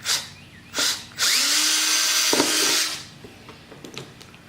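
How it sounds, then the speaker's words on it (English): A power drill whirs in two short bursts, then runs for a longer stretch drilling mounting holes on a Honda XR250R motorcycle, the motor pitch rising and settling before it stops; close and loud. "we'll go ahead and drill some holes to mount this bag."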